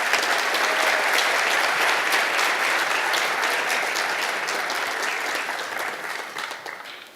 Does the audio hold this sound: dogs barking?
no